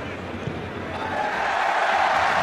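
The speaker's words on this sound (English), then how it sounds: "The crowd are up, the flags are up." A rugby stadium crowd at a Heineken Cup quarter-final, Toulouse against Leinster, swelling into a broad roar of cheering after a successful kick, building steadily louder with a commentator faintly under it.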